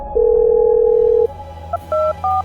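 A phone dialing an ambulance: a long steady tone, then a few short keypad beeps, close and clear with no talk.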